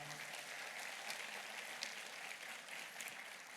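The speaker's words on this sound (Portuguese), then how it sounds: "a igreja te recebe com uma salva de palmas" A church congregation gives a sustained round of applause to welcome someone during a service, a steady dense wash of clapping heard from a distance and fairly soft.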